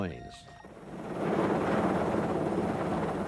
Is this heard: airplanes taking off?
yes